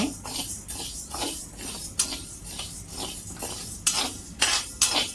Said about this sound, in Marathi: डिंक टाकल्यावरती हलवत राहायचं, मग पटकन लाह्या फुटतात. बघा लाह्या फुटायला सुरुवात झाली आहे.